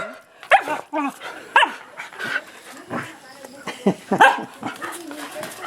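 A puppy on a rural farm yips and whimpers in short bursts over an outdoor background, heard close by, mixed with a person speaking to it.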